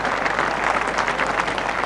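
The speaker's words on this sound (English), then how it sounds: "Warm applause from the crowd for the man from Yorkshire" Warm, steady applause from a bowls crowd at a 1989 finals day, a dense even patter of many hands clapping close by with no break.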